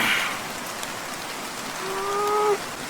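Steady rain falls early in the morning, a dense, even patter of drops heard alone with no talk, while a brief higher tone sounds near the end.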